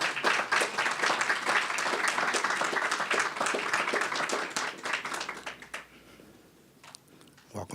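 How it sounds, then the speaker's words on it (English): At an office grand opening, a crowd bursts into sustained applause, dense clapping from many hands that fades after several seconds to a few scattered claps. "give ourselves a round of applause"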